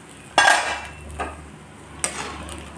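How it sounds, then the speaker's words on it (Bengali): A metal lid comes off a pot of simmering koi fish curry with a sharp clank, a light scrape, then another clatter, close and fairly loud, with no voices. "এখন আমি ঢাকনা খুলে নিচ্ছি।"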